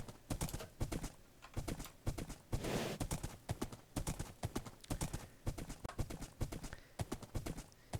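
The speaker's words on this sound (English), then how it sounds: "Look, more white horses." Rapid clip-clop of horse hooves galloping in a video game, a steady loud drumming rhythm that runs the whole time with a brief whinny-like swell partway through.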